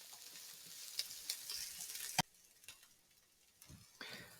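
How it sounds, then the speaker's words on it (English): Peppers sauté quietly in a pan for a vegan Spanish paella, a faint frying hiss that fades partway through, dotted with light ticks and a sharp utensil knock. "Saute that for about 3 to 5 minutes. Just let it get a little bit of golden color to it and soften up a little bit."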